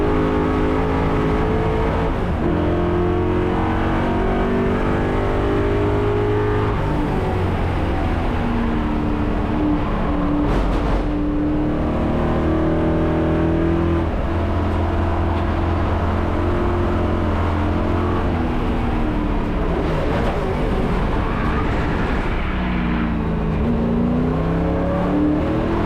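Race cars battling on the circuit at the Silverstone Festival, a continuous loud engine drone with rising and falling revs and gear changes, several cars close together and heard from onboard.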